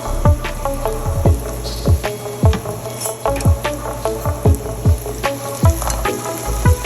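Chopped ginger fries in hot oil for an eggplant and potato sabji, a continuous sizzle broken by regular scraping thumps of a spatula stirring the pan, roughly two strokes per second, close and clear.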